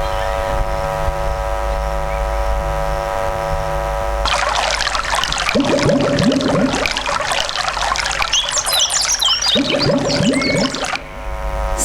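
Water pours and trickles in a continuous splashing stream into a vessel for drinking, starting after a quieter stretch and running loud for several seconds with a brief pause midway.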